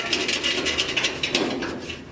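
A nut on a bin guide mechanism is tightened with a wrench, giving a rapid series of close, crisp metallic ratcheting clicks that fade toward the end.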